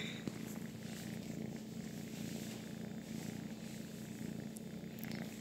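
A pet cat purrs steadily and close up, a low, rhythmic rumble running evenly throughout with no voices over it.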